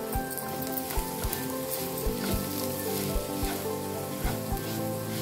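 Semolina and chopped vegetables roasting in a hot pan for rava kichadi, giving a continuous close sizzle broken by regular soft knocks and scrapes of a spoon stirring.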